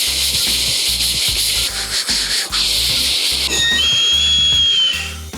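A voice imitates a train whistle: a sustained breathy, hissing whistle that slides into a clear tone near the end, loud and close, with rhythmic low chuffing pulses underneath and no talking.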